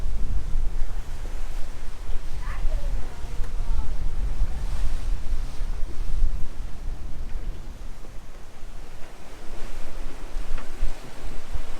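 Wind rushes and waves wash steadily around a sailboat on an ocean passage, moving at about 7 knots in 19 knots of wind, a loud, continuous broadband roar with gusty swells and no speech.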